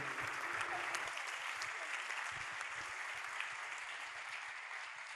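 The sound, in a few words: audience applause at a festival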